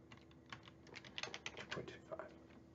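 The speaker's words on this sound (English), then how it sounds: "I'm typing and then I'm hitting tab to bounce between them" Keys clatter on a computer keyboard in a quick, close burst of light clicks, with a tab keypress among them, soft and uneven against a quiet background hum.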